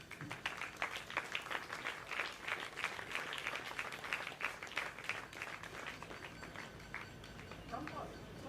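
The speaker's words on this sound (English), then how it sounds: "a round of applause from you will help" Audience applause at an award and release ceremony, a dense steady patter of clapping lasting throughout, fairly loud, with faint voices mixed in.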